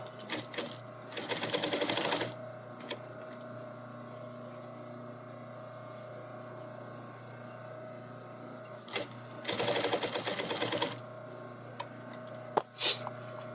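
A sewing machine stitching stretchy fabric runs in two short rattling bursts of a couple of seconds each, separated by a long stretch of steady low hum, close and fairly loud.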